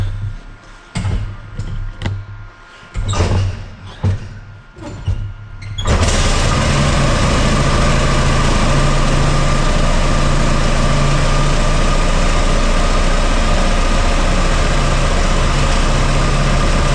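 A 1950s Harley-Davidson Panhead chopper cranks in several loud, uneven bursts, then fires and settles into a loud, close, steady idle that drones on alone.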